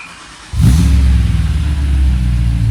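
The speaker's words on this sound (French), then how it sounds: "tu me la démarres? J'aimerais vraiment écouter, du coup, ce que donne ce V8." BMW M3 E92 V8 engine cranking and firing up after half a second of quiet, then settling into a loud, deep, steady idle close by.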